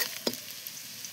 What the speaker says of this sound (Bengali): আমার পেঁয়াজটা ভাজা হয়েছে